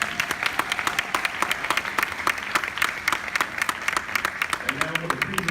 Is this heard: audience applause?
yes